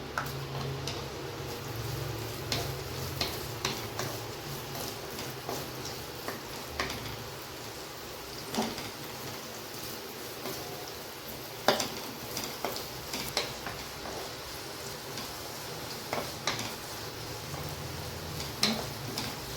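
Onions sizzle in a little oil with ginger and garlic for chapati noodles, a soft, steady frying hiss broken by frequent stirring clicks and scrapes of a spoon against the pan, close by and without speech.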